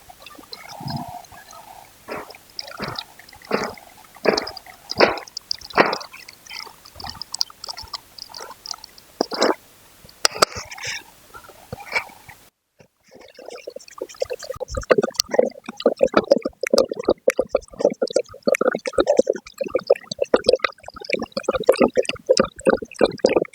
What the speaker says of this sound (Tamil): பச்சை பயிர் கடைஞ்சிக்கலாங்க.